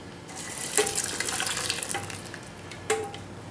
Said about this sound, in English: We're going to put it through the strainer. Or the chinois.